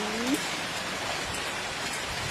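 Steady rain falls with a dense, even patter of drops close by, continuous throughout and without talking.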